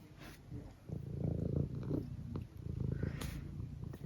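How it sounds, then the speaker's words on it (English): A cat purrs close by in a soft, rhythmic rumble of repeated breathing cycles, steady and fairly quiet, with a couple of faint higher clicks or snuffles. "You are such a cat."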